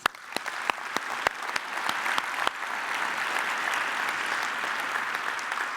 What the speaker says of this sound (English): Let's give our Columbus Chamber Board of Directors a round of applause.